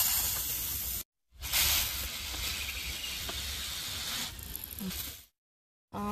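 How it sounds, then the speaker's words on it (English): An aerosol can of chain lubricant sprays onto a bicycle chain while the pedals turn, a steady close hiss lasting several seconds with a brief pause after the first second, then cutting off. "I'm going to use my lubricant and just spray it on my chain as I pedal."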